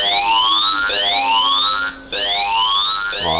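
A loud electronic siren from a robot's buzzer sweeps upward in repeated rising wails, each cycle about a second long, with a brief gap partway through.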